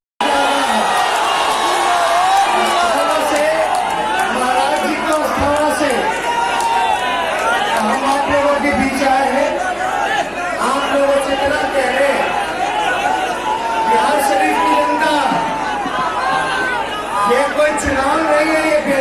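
A large crowd at an election rally in Bihar, with dense continuous chatter, shouts and occasional whoops rising from many voices, steady and loud throughout the clip.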